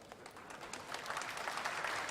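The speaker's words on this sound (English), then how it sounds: "Oh, they're clapping something." Applause from a crowd gathered for a space mission broadcast, a soft broadband patter of many hands clapping at a distance, steady and building slightly over two seconds with no speech.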